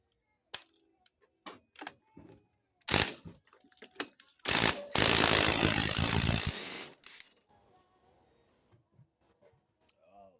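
A ratchet wrench clicks on a car engine during an alternator job: scattered single clicks, then a sharp burst and a sustained run of rapid ratcheting lasting a couple of seconds, close by, followed by quiet.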